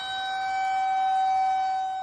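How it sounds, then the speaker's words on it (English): Lawton's outdoor civil defense warning siren sounds during its monthly test, a loud, steady multi-tone wail that swells slightly and holds throughout with no talking. "The siren sounded again on the third try"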